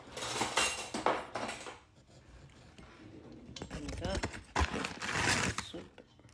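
Sugar and yeast mixed with a spoon in a bowl for fricassée dough, making quick clinking and scraping in two bursts, close, with a person talking in between.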